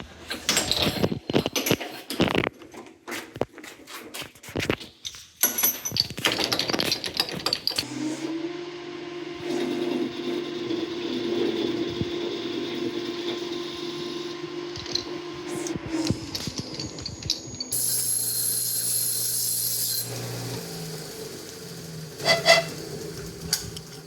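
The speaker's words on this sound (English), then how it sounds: "since I do have a lathe, I'm going to use it" A lathe spins up and runs with a steady mechanical hum for about ten seconds, then winds down, with clatter and handling noises from a workshop before and after.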